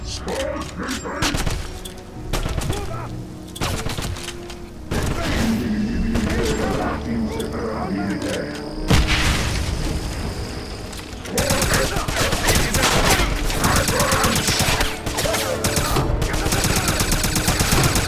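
Dense automatic gunfire and heavy volleys in a Wolfenstein firefight rattle loudly almost without pause, with shouted voices mixed into the chaos.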